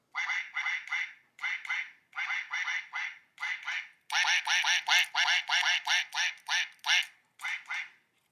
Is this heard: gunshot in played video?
no